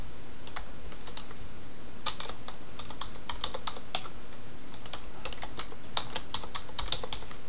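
Someone types a new password on a computer keyboard while setting up a local admin account in Windows 7, with irregular bursts of close, crisp key clicks over a faint steady hum.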